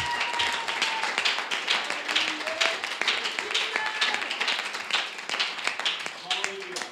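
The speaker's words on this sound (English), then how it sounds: "Why don't you give the Lord a hand clap of praise?" A church congregation claps in praise, with uneven rhythmic hand claps spread across the room under a bed of voices and music that continues throughout.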